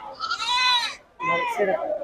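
Sheep at the Pavagada sheep market bleat in two loud, close, wavering calls with a short gap between them, and no other sound is audible.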